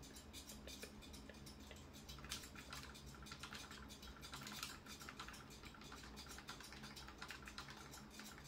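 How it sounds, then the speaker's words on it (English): Rapid typing on a keyboard pad, a steady stream of quick light clicks and taps at close range with a low background hum, continuous through the whole stretch. "the reason why I'm typing this fast is because I'm just using the pad"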